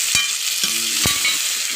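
Potatoes and spices fry in a pan, a steady sizzle broken by a few scraping stirs of a spoon against the pan.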